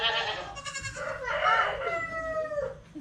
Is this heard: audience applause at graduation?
no